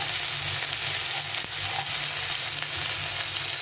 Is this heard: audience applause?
no